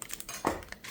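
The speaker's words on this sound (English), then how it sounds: "now we're gonna put the ramen noodles" Dry ramen noodle block dropped into a pot during an outdoor Japanese-style Ichiban ramen cook, giving a single brief crinkling clatter near the mic amid faint light clinks.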